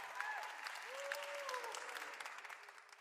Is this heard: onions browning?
no